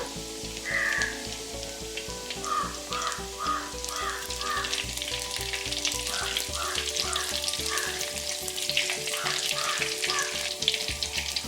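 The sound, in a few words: shallots and green chili frying in oil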